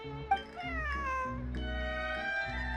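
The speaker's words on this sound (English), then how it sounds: "This is my friend's cat." Cat meowing in a video game hangout scene, a series of drawn-out, rising and falling meows over a steady music bed with no talking.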